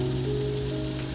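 Steak coated in mayonnaise sizzles steadily in a pan, a dense, even frying hiss heard up close with no pauses.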